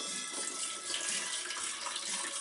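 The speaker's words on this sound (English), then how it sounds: "I'm just going to pour that in, strain it" Green juice made with an Omega 8004 juicer pours steadily through a strainer, a continuous close liquid splashing and trickling with no voices.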